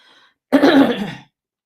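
A single close, harsh throat-clearing cough, short and loud, after a brief moment of quiet.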